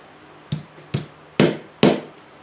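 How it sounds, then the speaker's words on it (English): Hammer blows land on a bent metal Cisco router card as it is beaten flat. Four sharp, resonant strikes come at a steady pace, growing louder, close by and with no voices. "So I've got my hammer, and I'm ready to get started working on this."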